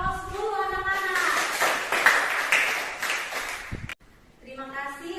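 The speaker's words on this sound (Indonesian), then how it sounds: "Kita beri aplaus dulu anak-anak." A classroom of students applauds a presenting student group, a sustained burst of clapping lasting a few seconds, with a teacher's voice speaking before and after.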